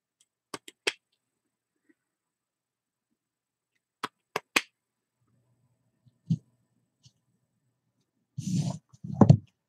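Scissors cut fabric dangles for shabby fabric dolls in short crisp snips, grouped in quick pairs and triples with silent gaps between, then a soft rustle of cloth at the end.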